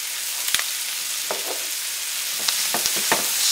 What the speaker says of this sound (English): Sweat your peppers a bit.